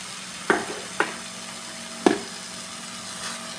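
Grated mango ginger is stirred into a homemade pickle paste, producing three soft, irregularly spaced knocks of a spoon against the container over a quiet background, with no one speaking.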